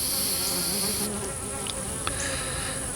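Honey bees drone steadily, some returning with pollen, a close, continuous buzz with slight pitch wavering as individuals pass, and a few brief clicks underneath.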